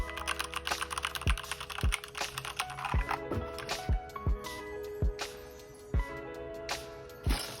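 Keys clack on a used Keychron K2 version 2 mechanical keyboard connected to a Mac, giving a run of distinct, close, moderately loud keystrokes spaced about a second apart, heard alone with no talking.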